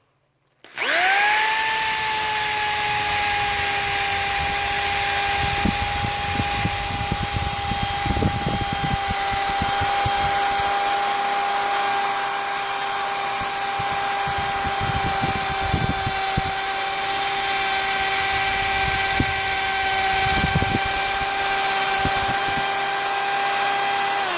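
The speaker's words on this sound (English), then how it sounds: "you could see the fiber wheel does a pretty good job" A fiber wheel on a handheld power tool grinds rust off a rain gutter, a steady loud high-pitched whine after a quick spin-up, running continuously with scraping crackle as it bites the metal, no talking.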